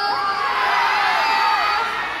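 A live fan crowd at a Joshua and Julia event in Cebu screams and cheers continuously, high shrill voices layered into one loud, sustained roar that swells slightly before easing off.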